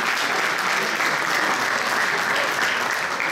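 Sustained applause from an audience at a Mladenovac sports awards ceremony, a dense and steady wash of clapping hands that stays loud and even throughout.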